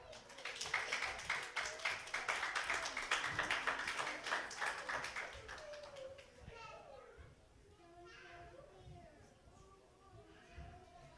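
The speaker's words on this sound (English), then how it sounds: "Let's give our young people a hand clap." A church congregation at a Sunday worship service breaks into loud, dense hand clapping for several seconds before it fades and voices speak over the quieter room.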